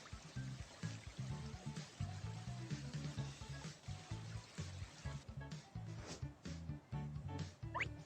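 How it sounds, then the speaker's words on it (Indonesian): Tap running water into a swimming pool in a Baby Bus children's game, a steady trickling, splashing stream that continues throughout at low level. "Putar keran untuk mengisi kolam renang dengan air."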